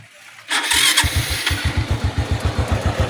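An XRM 125 motorcycle with a manual clutch starts up nearby and settles into a rough, pulsing idle with a rhythmic ticking beat from an engine fault.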